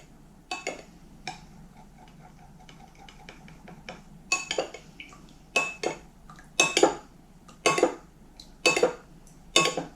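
A spoon stirs a mixture in a bowl, clinking and scraping against the sides in repeated strokes that grow louder and quicker.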